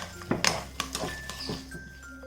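Potato, chillies, onion and thick yogurt being mixed in a bowl, heard as a few irregular close clinks and scrapes of a spoon against the dish with short quiet gaps between them.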